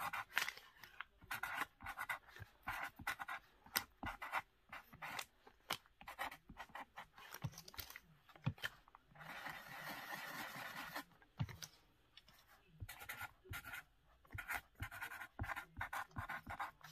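A pen writes on paper in soft close scratchy strokes, coming in short irregular bursts with brief pauses, steady and quiet throughout.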